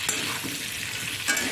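Potatoes, onions and bay leaves fry in hot oil, a steady close sizzle with a couple of brief scrapes of stirring and no talking.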